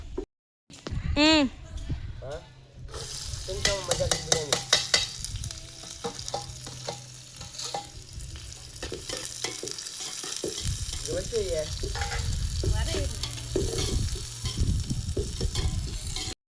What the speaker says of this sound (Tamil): வதக்கிக்கலாம். வதக்கிட்டாச்சு.